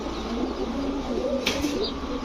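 A large male Rajshahi Giribaz pigeon giving soft, low rolling coos close by, over a steady background hum, with a brief flutter or scrape partway through.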